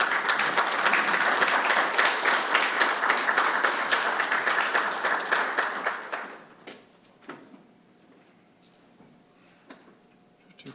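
Applause from an audience at a city common council meeting, loud sustained clapping from many hands that fades out after about six seconds, leaving a few scattered claps in a quiet room.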